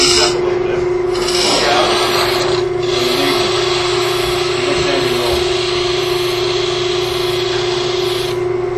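Continuous scraping and rasping of a chisel cutting wood on a spinning lathe while beads on a lamp are dressed, a steady motor hum running underneath throughout.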